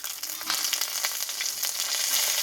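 Crushed ginger frying in a little oil makes a bright, continuous close sizzle with soft crackles, steady and fairly loud for a few seconds.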